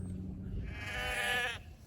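A Katahdin sheep or lamb gives one loud, close, wavering bleat lasting about a second over a low rumbling background.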